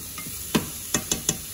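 Vegetables sizzling in olive oil in a pan, with a few sharp scraping stirs and light clatter over a faint, steady frying hiss.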